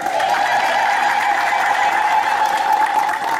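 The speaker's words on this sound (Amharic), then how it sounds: "እግዚአብሔር እስቲ እልልታ ጭብጨባ ብታሰሙ ደስ ይለኛል" An Ethiopian Orthodox church congregation fills the space with loud, continuous ululation and clapping, a dense sustained wash of high trilling voices and applause with no break across the whole stretch.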